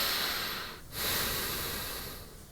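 Slow, relaxed belly breathing through the nose, heard close and soft: a long airy exhale, a brief pause, then a fuller inhale that gradually fades.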